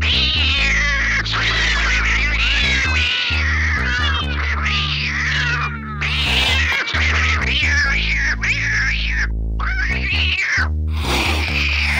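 Domestic cats meow and caterwaul in a montage of film scenes, a dense run of loud, overlapping, drawn-out cries with short breaks between cuts, over steady background score.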